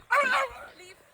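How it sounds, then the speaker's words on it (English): A dog barks from across the road, one short burst of yipping bark sounding fairly close and loud, followed by quieter outdoor background. "So that was the dog right over there across the road."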